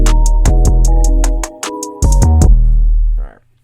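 An 808 bass tuned to C booms through a short beat, deep sustained notes changing pitch under crisp repeated hi-hat ticks, loud and up close, ending with a brief pause and a final low hit.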